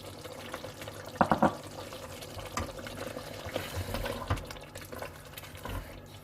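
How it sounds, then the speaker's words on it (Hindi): Blended tomatoes poured into a pan of spiced chicken makhni make a wet, gurgling liquid sound with a few clunks of the container, close and moderate in level, with no talk. "मैं इसके अंदर ये ब्लेंड किए हुए टमाटर डालूंगी।"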